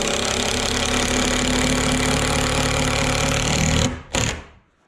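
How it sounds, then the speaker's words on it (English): A power driver sinks screws into wood while building lumber storage in a workshop, giving a loud, steady whirring buzz that cuts off abruptly, briefly restarts, then stops. "we'll just drive some screws in to hold it"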